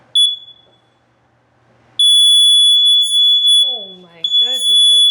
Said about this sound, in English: Explosive gas alarm.